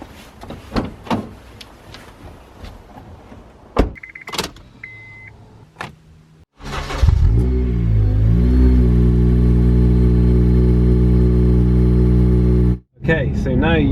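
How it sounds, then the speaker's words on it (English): A Honda Civic Type R FD2 in a garage setting: door clunks and handling noises, then the engine starts and settles into a loud, steady idle-to-driving drone that cuts briefly before the end. "now we're going to jump in the FD2 and we'll head over and get the MOT done on this one"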